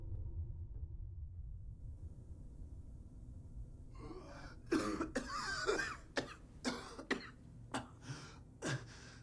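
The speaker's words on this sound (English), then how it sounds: "Gasping, coughing." A character in the video game Fallout 4 gasps and coughs, a series of sharp, close, breathy bursts following a low rumbling lead-in.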